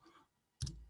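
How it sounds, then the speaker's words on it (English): A computer mouse is double-clicked once, giving a close, sharp pair of clicks after a near-silent stretch, loud against the quiet room. "I think we need to double click this"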